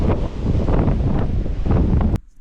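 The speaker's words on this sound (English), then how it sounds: "We're talking 30 to 40, maybe even gusts of 50 miles per hour." Blizzard wind gusting at 30 to 50 miles per hour during the Great Christmas Blizzard of 2022: heavy, roaring rumble buffeting the microphone in surging waves, loud and continuous, then cutting off abruptly near the end.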